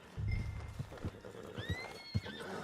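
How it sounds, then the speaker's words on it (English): Horse in the Red Dead Redemption 2 game gives a loud, close neigh, then hooves clop in a few uneven steps while faint game sounds continue. "Put Strauss on the back of John's horse"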